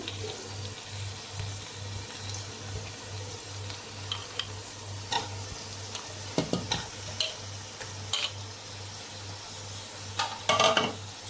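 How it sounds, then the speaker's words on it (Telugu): Mutton pieces going into a sizzling tomato and onion base for chitti mutyala biryani, a steady frying hiss with a low hum beneath and a few stirring clatters and scrapes near the end. "ఇప్పుడు దీంట్లోనే మనము ఈ మటన్ని కూడా వేసేద్దాము"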